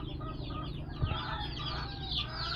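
Buff Orpington and Brahma crossbreed chickens cluck steadily and fairly close, with a busy layer of other poultry calls behind and no clear pause.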